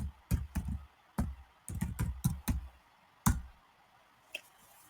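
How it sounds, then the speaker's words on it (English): Keys clacking on a computer keyboard as a terminal command is typed, several short bursts of close, crisp clicks with brief pauses between them, ending in one isolated tap. "we can directly type Minikube service storefront"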